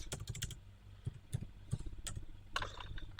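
Quick bursts of keystrokes on a computer keyboard, close and crisp, with irregular clusters of clicks and short pauses between them, no voices.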